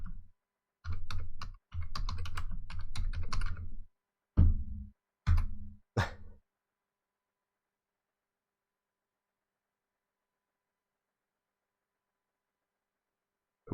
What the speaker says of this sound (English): I'm just typing something out here real quick